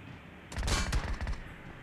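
Gunfire in the mobile battle royale game BGMI, fired from an AK rifle: a short, loud burst of rapid automatic shots about a second long, close and punchy, with no talking.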